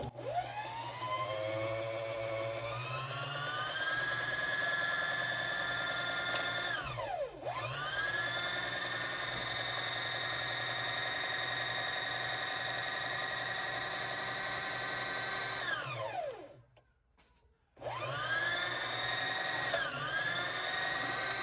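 A pink Singer sewing machine runs with the pedal pressed, giving a long, steady whirring hum that rises and falls in pitch as it speeds up and slows, with one brief pause.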